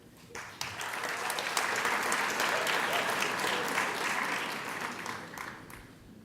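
Sustained audience applause fills a school commencement ceremony, a dense wash of many hands clapping that swells quickly after a brief start, holds steady for several seconds, then gradually thins toward the end.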